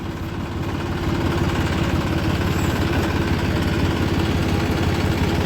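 A direct-type Massey tractor engine runs at a steady idle, a continuous low, throbbing rumble heard nearby without any talking.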